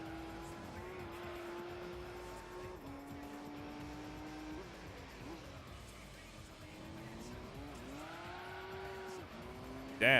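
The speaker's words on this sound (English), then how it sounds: "Damn, what a drift." A car drifts in Gran Turismo 3 A-Spec, its engine droning steadily while a long tire squeal bends in pitch through the slide and rises again near the end.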